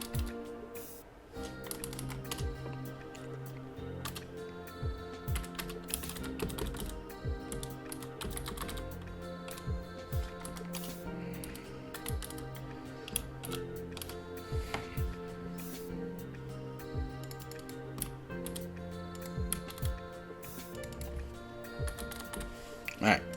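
Computer keyboard typing code for a Unity 2D platformer tutorial, steady quiet clicking runs under a man's continuous explanation, with background music.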